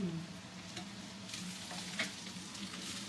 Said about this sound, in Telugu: ఉల్లిగడ్డలు బాగా ఎగినాయా మమ్మీ? బాగా ఎగినాయి, ఎగుతుండయి.